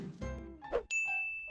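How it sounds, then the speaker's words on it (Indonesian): A phone plays an SMS notification tone: a soft thunk and a short rising ding, then a bright sustained electronic chime that holds to the end, fairly quiet over light background sound. "SMS sudah masuk nih, tinggal klik linknya."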